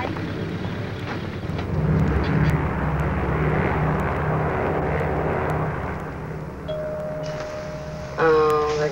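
An airplane flying, with a steady engine drone filling the whole stretch, and a tonal hum and brief higher sounds appearing near the end.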